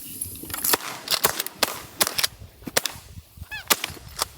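Sharp shotgun blasts during an opening-day duck and goose hunt in Alberta, several sharp reports in quick succession, some loud and near, others fainter, with brief honking calls between them.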